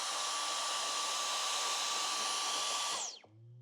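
A vacuum cleaner runs close by near goldendoodle puppies, a steady loud whirring drone for about three seconds before it cuts off and winds down.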